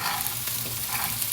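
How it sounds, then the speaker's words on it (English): Long beans sizzling in a hot pan for Caribbean-style fried rice, a dense, steady crackle of frying oil with no voices. "we're gonna fry that and throw in the bora"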